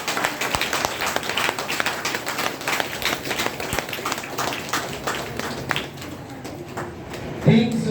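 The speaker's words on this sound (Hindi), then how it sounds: "इसके लिए ताली बनती है कि नहीं बनती है?" An audience at a DXN business seminar breaks into sustained, dense clapping that runs steadily for several seconds, fairly close and even, then thins out toward the end.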